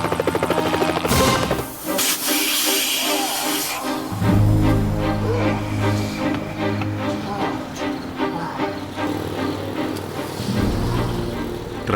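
Rotor thrum and turbine whine of a rescue helicopter ferrying a patient to an emergency centre from a trench landslide site, a steady loud drone holding throughout with shifting low rumbles and no speech.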